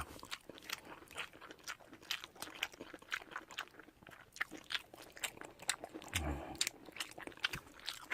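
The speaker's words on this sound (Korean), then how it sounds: "미역씹는 식감도 좋아요." Someone chews Nongshim Miyeok-deumppuk chojang bibimmyeon, spicy cold noodles loaded with seaweed, up close. Soft, quiet crunches and wet bites repeat in a quick, irregular rhythm.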